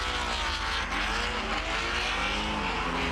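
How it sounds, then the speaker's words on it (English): A Porsche drift car runs solo laps on a track, its engine roaring loud and close throughout with shifting revs and faint tire squeal, with no talk. "Here's some more solo laps with the Porsche."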